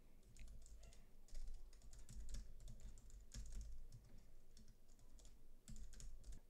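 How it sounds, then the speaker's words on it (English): A password being typed on a computer keyboard, a quick irregular run of soft, close key taps that comes in short bursts with brief pauses, no voices over it. "I'm going to tap in a password."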